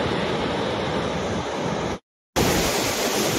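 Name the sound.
Ghod river water flowing after heavy rain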